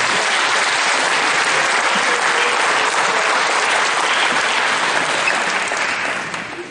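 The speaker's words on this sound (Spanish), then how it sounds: "Dale un aplauso al Señor." A church congregation applauds steadily during a Spanish-language Mass, a dense, loud wash of clapping that holds evenly throughout and tapers slightly at the very end.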